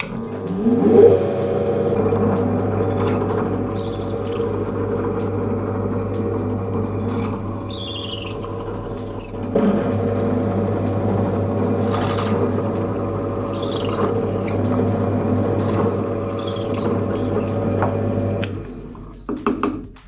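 A drill bores through metal blanks for a knife sharpener, a steady whirring motor hum broken by several bursts of higher grinding as the bit cuts, close and without speech.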